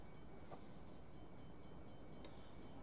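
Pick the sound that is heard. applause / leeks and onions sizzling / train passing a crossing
train passing a crossing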